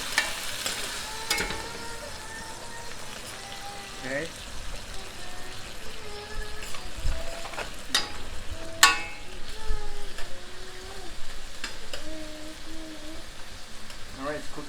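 Liquid hisses and sizzles in a hot pan after roasting a rack of pork with warm spices, deglazing over high heat with scraping and stirring, while a person talks over it throughout.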